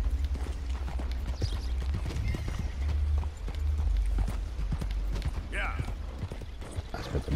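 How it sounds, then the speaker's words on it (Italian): Horse hooves clip-clop at a steady trot in the video game Red Dead Redemption 2, close and continuous under low game ambience, with a brief whinny partway through. "Allora, saliamo a cavallo."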